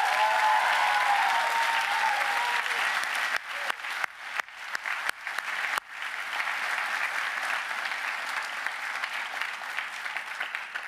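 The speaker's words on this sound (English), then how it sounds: "let's give Crystal Jackson a round of applause" Large commencement ceremony audience gives sustained applause, a dense wash of clapping in a big hall that thins slightly partway through and continues steadily for about eleven seconds.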